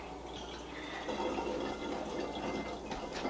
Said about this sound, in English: blowing bubbles